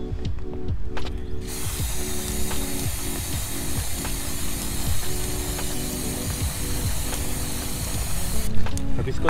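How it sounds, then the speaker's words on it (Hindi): Cleaner sprays onto the chain of a Triumph Scrambler 400X motorcycle in a long, continuous close hiss, with a rhythmic ratcheting click from the turning chain and wheel running beneath it. "अब इसको थोड़ी देर एक बार और स्प्रे करेंगे और उसके बाद छोड़ दूंगा।"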